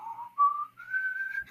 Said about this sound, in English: you just hear the freaking wolf whistle from Puss in Boots.